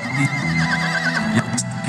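A horse at an extreme trail competition on a farm gives a loud, close neigh with a wavering whinny lasting about a second, followed by a shorter snort-like call, with no talking.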